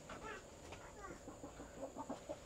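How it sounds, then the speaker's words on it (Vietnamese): Several chickens cluck softly near a simple village house at the foot of Mã Pí Lèng pass, with scattered short calls at a moderate distance over faint background noise. "Ở đây là có hai chú bò màu đen và có mấy con gà kìa."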